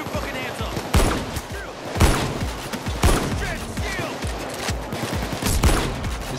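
Dense gunfire in a Payday 2 heist shootout, with repeated heavy bursts of shots and sharp impacts every second or so over a constant din, loud and close, with voices talking over the firing.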